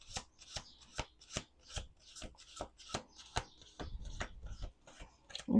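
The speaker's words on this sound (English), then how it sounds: "Last shuffle, last shuffle," A deck of tarot cards is shuffled repeatedly by hand, giving a rapid series of crisp riffling bursts at a steady rhythm, close and clear with no talking.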